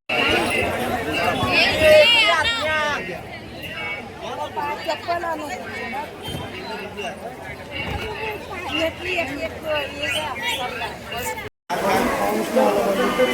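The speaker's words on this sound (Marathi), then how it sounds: "मंदिराच्या बाहेर खूप गर्दी आहे प्रशस्त गर्दी आहे" Large crowd outside the Tulja Bhavani temple, a dense babble of many voices and footsteps, with a close voice talking over it and a brief cut near the end.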